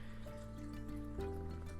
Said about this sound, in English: This is a light water going into the oils